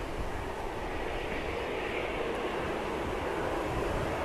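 EasyJet airliner descending to land at Manchester Airport, a steady broadband jet roar with a rushing, airy texture that holds constant and fairly loud throughout, no voices over it.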